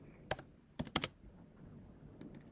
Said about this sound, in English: If you're bored of just watching me type